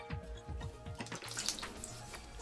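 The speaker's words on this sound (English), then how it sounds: "He scrapes it on soft stones which are lubricated with water" A samurai sword blade is scraped along soft sharpening stones lubricated with water, giving quick repeated wet rasping strokes with watery trickles and drips. The strokes are fairly close but quiet, with no voices.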